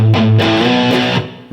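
A distorted electric guitar phrase from a riff: a couple of short chugs, then a sustained chord ringing out and choked off abruptly, played alone and loud.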